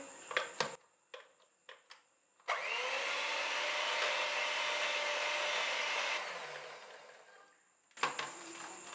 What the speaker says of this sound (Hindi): मक्खन और चीनी को अच्छी तरह से बीट कर लिया।